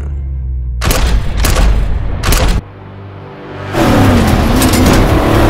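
An enemy car crashes into a ravine in the film Operation Fortune. Several loud, sharp crashing bursts land in quick succession, followed by a sustained rumble of motion and impact.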